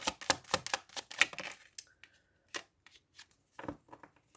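Tarot cards shuffled and drawn by hand, a quick run of crisp riffling flicks, then sparse single card snaps and slides after a pause, close and quiet with no talking.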